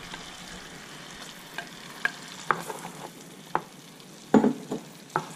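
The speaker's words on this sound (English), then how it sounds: "I got my butter going pretty good now, so I'll go ahead and put the shark in here." Pieces of Atlantic sharpnose shark frying in hot butter in a pan, a continuous soft sizzle punctuated by scattered utensil clicks and scrapes, with a louder clatter near the end.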